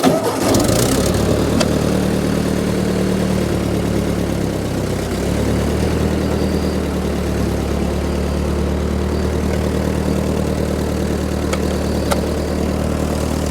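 A Ford 8N tractor engine cranks and catches, then settles into a steady, close, loud idle with an even low throb that runs on without pause.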